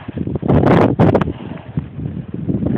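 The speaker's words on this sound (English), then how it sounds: "It's windy." Strong wind in a snowstorm buffets the microphone with loud, rough gusts that swell and fade, the heaviest bursts coming in the first half; no one speaks.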